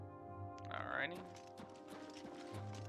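A horse's hooves clip-clop at a steady walking pace in Oblivion Remastered, heard faintly beneath a voice and soft background game music.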